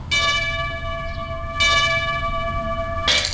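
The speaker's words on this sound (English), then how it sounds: "That sound you heard was the Liberty Bell cracking in Philadelphia." A large bell, presented as the Liberty Bell cracking in the You Don't Know Jack video game, strikes loudly three times at even intervals, each ringing tone sustaining until the next blow.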